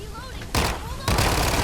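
Gunfire in a shooting video game with a hard-hitting shotgun: two loud, sharp blasts about half a second apart, each followed by a rumbling tail, over faint whistling background tones.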